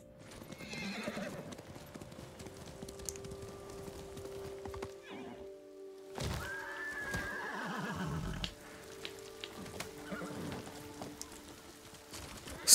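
A video-game horse whinnies and snorts amid clip-clopping hooves, with quieter stretches and a second neigh later; faint game-like tones hum underneath.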